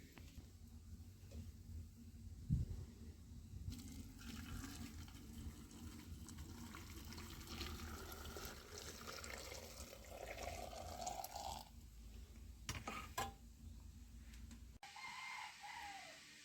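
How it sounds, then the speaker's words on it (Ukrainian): Boiling water is poured into glass jars packed with tomatoes for pickling, a steady continuous gushing and splashing that runs on for many seconds at low level, the pitch rising slightly as each jar fills, with no voices. "І тепер зараз кожну баночку заливаю крутим кип'яточком."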